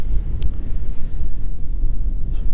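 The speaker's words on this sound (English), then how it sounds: "It's got to be 20-25 mile an hour winds gusting up here at the minute." Strong gusting wind on a Dartmoor tor hilltop in stormy weather, a loud rumbling roar buffeting close to the microphone, no voices.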